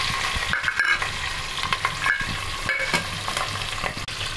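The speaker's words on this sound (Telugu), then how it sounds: "ముందుగా కట్ చేసి పెట్టుకున్న ఉల్లిపాయ ముక్కలు, పచ్చిమిర్చి ముక్కలు వేసుకుంటున్నానండి" Chopped onions and green chillies fry in hot oil in a pan for a Telugu pappucharu, with a steady sizzle broken by repeated scraping and clinking as a spoon stirs them. No voices.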